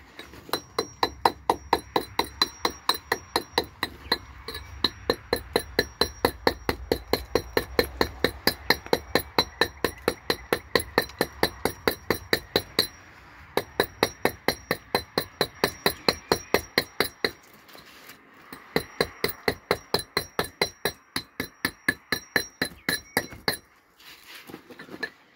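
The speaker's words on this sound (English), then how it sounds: "You can square that up using the scratch hammer again." Scratch hammer dressing stone for a wall, sharp rapid clinking strikes in a fast, even rhythm continuing for about twenty-five seconds, with a couple of brief pauses.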